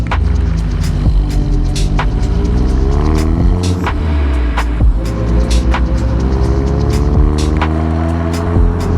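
A car engine fitted with an APR open carbon fiber intake revs repeatedly, rising and falling under sharp intermittent clicks, close and loud with no voices.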